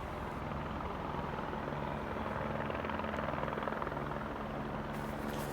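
Far off, a helicopter approaches above a mountain forest near high-voltage power lines, its rotor giving a steady, thudding drone that holds an even level throughout, with no voices.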